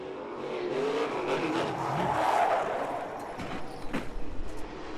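A NASCAR Camping World Truck Series truck spinning out on the Eldora dirt track, engine noise swelling and fading with a skidding rush as it snaps around, crowd and track ambience underneath.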